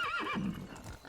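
Horse in the video game Medieval Dynasty giving a short, close whinny that wavers in pitch and then drops into a low snort, alone.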